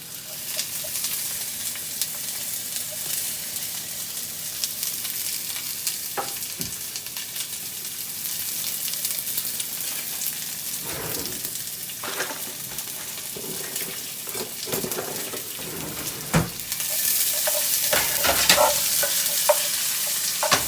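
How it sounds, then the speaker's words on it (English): Onions frying in oil with tempered spices for Bangalore Donne biryani, a steady continuous sizzle with occasional stirring scrapes and clinks, growing louder and brighter toward the end, with no talking. "So we're going to fry the onions till they get golden brown."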